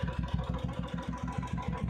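A Royal Enfield Bullet motorcycle idles close by, its engine thumping in a steady, even beat of low pulses with a light mechanical clatter and no speech.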